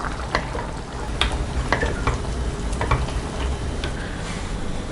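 Chicken semi-gravy with coriander leaves is stirred in a pot, a low bubbling simmer under repeated spoon scrapes and clinks against the vessel, moderately loud and close, with no voices.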